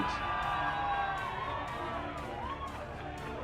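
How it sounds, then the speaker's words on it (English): A large event crowd cheers for Ireland's drivers, a broad, steady roar with scattered whoops and shouts that stays loud and continuous throughout. "please give a huge round of applause, please, for your drivers representing"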